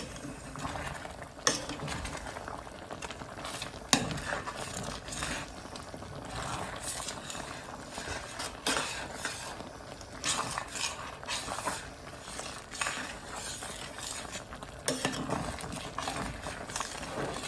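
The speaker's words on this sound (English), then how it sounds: "make sure you're scraping your pot so your noodles don't stick" A spoon stirs and scrapes the bottom of a pot of bubbling noodles with leftover ham, giving soft irregular scrapes and clinks over a quiet simmer, close by and fairly faint.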